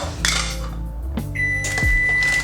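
Kitchen oven beeps during home baking of date and oat squares: a clear sustained electronic tone sounds near the middle and end, over low background hum and some handling noise, with no talking.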